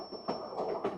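White Pass railroad train rolling over the summit at the divide, a soft, fairly distant rumble with rhythmic swells of wheel noise and a thin steady whine above it.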